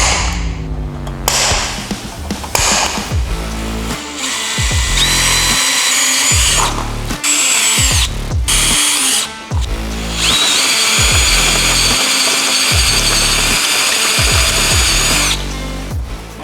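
Power drill boring a hole beside a power cord for a wire grommet, loud whining bursts that start, stop and restart in several close passes, with brief pauses between.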